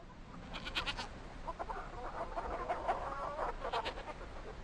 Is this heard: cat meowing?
no